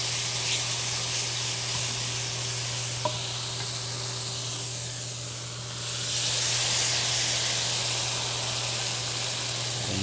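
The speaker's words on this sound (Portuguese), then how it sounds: "Vamos deglaçar ele aqui com o molho" A hot pan being deglazed with homemade tomato sauce while cooking fresh pasta with shrimp gives a steady, loud sizzling hiss throughout, swelling briefly partway through, with no speech.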